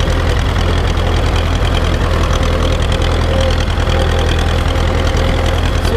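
Ursus farm tractor engine running steadily while driving, a loud close diesel chug with a constant low rhythmic knock and no pauses.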